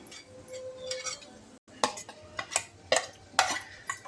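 A spoon scrapes and clinks against a pan while onions fry with chili powder and garam masala, making a run of irregular metallic stirring knocks over a faint sizzle.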